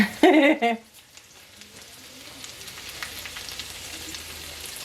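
Turkey filling sizzles in a skillet with a soft, steady crackle, following a brief burst of a voice at the start.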